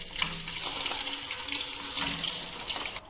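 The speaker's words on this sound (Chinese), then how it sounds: "锅内倒入宽油，油温大概5成热的时候直接下锅啊" Frozen homemade potato fries, dropped unthawed into a wok of hot oil, sizzle steadily with a dense, crackling bubbling that swells and eases in waves, close and fairly loud with no talking.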